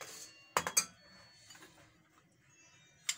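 A spoon stirs chicken corn soup in a pot, sharp metallic clinks against the rim in a quick cluster, then softer scrapes and a final clink, close and quiet.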